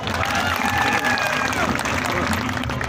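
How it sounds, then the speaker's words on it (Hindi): An audience claps to welcome a speaker at a gathering, a steady, dense wash of applause that carries on through the whole stretch, with a voice speaking over it. "तालियों की गड़गड़ाहट से उनका स्वागत, अभिनंदन।"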